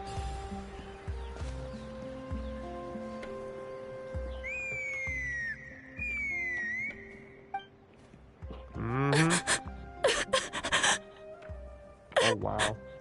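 A clear, pitched whistle imitating a bird call sweeps up and down a few times over a soft game background, followed by panting and gasping.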